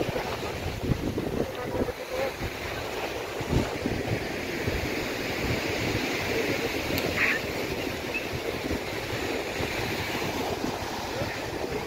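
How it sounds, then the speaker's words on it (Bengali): Rough sea churns at Marina Beach in Chennai after Cyclone Michaung, with a continuous roar of surf blended with buffeting wind noise on the microphone. "সমুদ্র এখনো বেশ উত্তাল হয়ে আছে"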